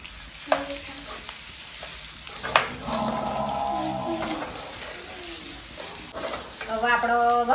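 Whole spices tempering in hot oil sizzle loudly in a pan while being stirred, with scraping strokes and occasional sharp pops over a continuous frying hiss.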